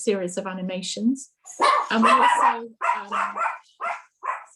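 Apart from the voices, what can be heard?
dog barking in the background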